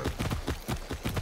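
Horse hooves clip-clop in Far Cry 6, a quick regular pattern of about six thudding beats in just over a second, close and fairly loud over a noisy background.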